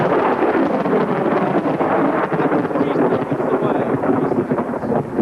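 Thunder from a close supercell lightning strike rumbles loudly and continuously, a dense roar with rain and wind buffeting the microphone.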